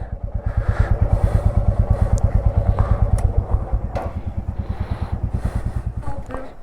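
Motorcycle engines idle and rumble at a petrol station while tanks are filled, a loud, steady rapid pulsing close by, with clattering and faint talk in the background.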